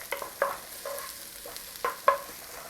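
Beef and ginger stir-fry with garlic and ginger being stirred in a warm oiled pan, giving a few soft scraping stirs and light sizzling bursts, close and fairly quiet with no talk.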